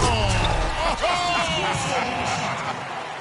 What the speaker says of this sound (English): Oh, and the crowd goes crazy after seeing that finish